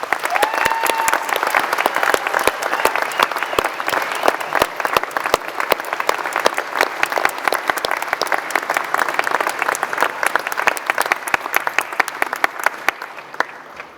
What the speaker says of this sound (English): please join me in giving them a heartfelt round of applause